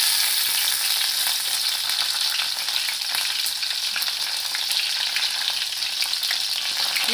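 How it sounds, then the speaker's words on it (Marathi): Cumin, mustard seeds and curry leaves sizzle in hot oil for a Kolhapuri-style whole masoor tempering, a loud, dense, unbroken crackling hiss heard close with no talk. "जिरी मोहरी आपण ना कढीपत्ता टाकून घेऊया।"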